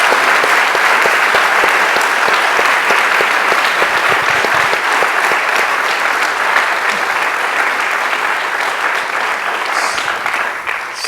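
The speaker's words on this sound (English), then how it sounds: "So let's give our panel a round of applause." Sustained audience applause for a panel at a theater event on aquaculture in Damariscotta, Maine, a dense steady clapping lasting about eleven seconds and fading slightly at the end.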